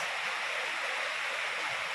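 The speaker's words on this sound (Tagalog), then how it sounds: "Maulan guys, oh. Ayan, lakas." Heavy rain pours down steadily in a broadband, even wash, loud and close, with no voices over it.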